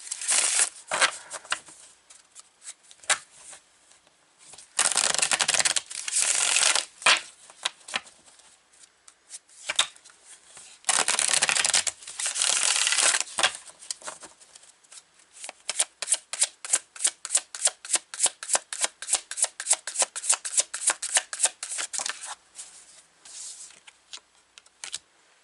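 A deck of tarot cards is shuffled up close: bursts of riffling interleave with rapid, evenly spaced card flicks, crisp and dry, building into a long run of quick snaps near the end.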